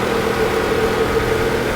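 A dirty MultiAir 2.4 engine idles steadily, a loud, even mechanical drone with a constant low hum and slight vibration, heard up close with no talking.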